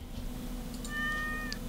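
A single cartoonish cat meow from Stardew Valley, a brief rising tonal call over a steady low game-music bed, clear and fairly close.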